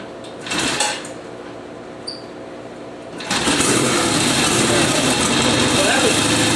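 A cold Norton motorcycle that hasn't started in three weeks, with a couple of kick-like thumps and quiet mechanical noise first, then the engine catching and running steadily and loudly through the rest.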